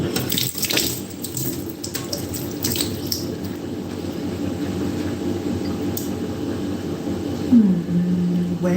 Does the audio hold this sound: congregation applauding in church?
no